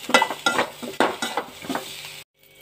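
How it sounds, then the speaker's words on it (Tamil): Chili, garam masala and turmeric powders are sautéed in a pan, heard as rhythmic scraping stirs over a soft sizzle, about a stroke every quarter second, close by, ending abruptly in near silence. "ஒரு ஸ்பூன் வத்தல் பொடி, கரம் மசாலா பொடி, மஞ்சள் பொடி போட்டு நல்லா வதக்கி விட்டுக்கோங்க."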